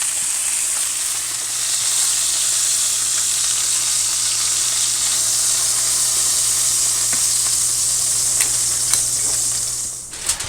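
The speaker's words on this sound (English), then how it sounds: "Now, I'm going to cook it 3 more minutes on this side, but I'm adding just a little bit of butter on each steak." Adobo-rubbed steaks sizzle loudly in a pan with butter added, a steady bright hiss that holds for several seconds before easing near the end, close and without speech.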